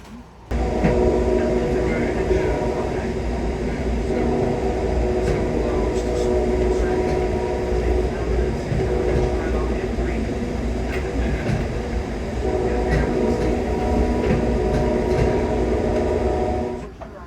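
Amtrak Capitol Limited passenger train rolling along on a long-distance run, heard from inside the car as a steady, close, continuous rumble and rattle that holds level throughout.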